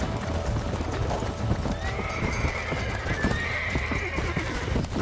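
In the video game Red Dead Redemption, rapid hoofbeats clatter steadily throughout while a horse lets out a long, high whinny partway through, loud and close.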